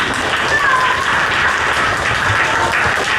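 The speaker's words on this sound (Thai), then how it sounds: "นักเรียนปรบมือให้กับพี่สายแดงด้วยครับ" Students at a taekwondo gym belt-promotion test applaud their red-belt instructor, a dense, steady clatter of many hands throughout the short stretch, close and fairly loud.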